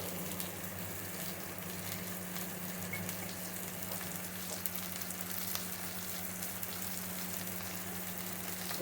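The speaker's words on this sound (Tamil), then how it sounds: "போட்டு இப்போ நல்லா வதக்குங்க. இது வதங்கிறதுக்கு கொஞ்சமாக உப்பு போட்டுக்கலாம்." Onions sautéing in a pan for a South Indian kara kulambu, a steady, close sizzle and crackle of frying that holds evenly throughout with no talk.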